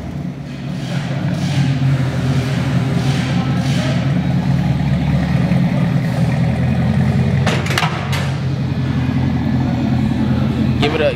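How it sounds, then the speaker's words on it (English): A Camaro ZL1 with a drag pack, its V8 engine idling with a deep rumble and swelling in a few revs, heard close beside people talking. "Give it a little rev."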